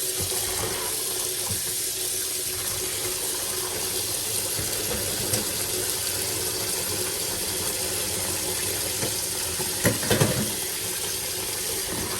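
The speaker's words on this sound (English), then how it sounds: "I'm now going to wash it very well with some lime juice and some room temperature water" Running tap water while chicken feet are washed with lime juice and room-temperature water in a sink, a steady near splash and trickle throughout, with a few louder sloshes toward the end.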